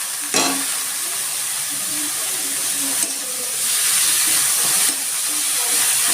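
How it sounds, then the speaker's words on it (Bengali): Bottle gourd peel added to a pan after frying prawns sizzles and hisses steadily, with sharp bursts as pieces hit the hot oil and a brief stirring clatter, close and alone without talk. "চিংড়ি মাছ ভাজা হয়ে গেছে, এবার আমি লাউ খোসাটা"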